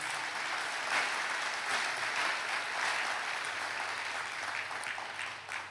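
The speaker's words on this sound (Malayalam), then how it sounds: "ഒന്ന് കൈയടിച്ച് കർത്താവിനെ മഹത്വപ്പെടുത്തുക." A church congregation at a Christian retreat sermon claps together in praise, a dense, steady wash of applause that holds for several seconds and tapers slightly at the end.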